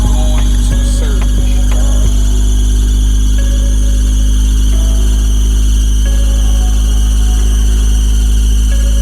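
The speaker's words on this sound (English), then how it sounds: "gonna hear the squeak because I gotta change the belt" A worn serpentine belt on a 1997 Honda CR-V engine squeals at idle as the engine warms up, making a loud steady whine over a constant engine hum, with no talking.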